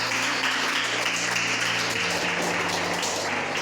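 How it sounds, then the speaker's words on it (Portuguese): A church congregation claps for Jesus during a sermon, a continuous wash of many hands clapping under a sustained musical drone, fairly even throughout. "desocupa as mãos e palmas para Jesus"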